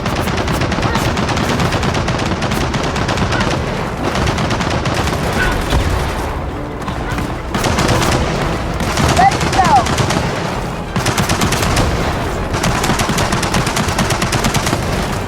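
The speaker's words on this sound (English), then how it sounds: "Machine gun nest!" Rapid machine gun fire fills a Gears of War 4 battle, with continuous bursts of gunfire and heavy shots, loud and close, while characters shout over the combat.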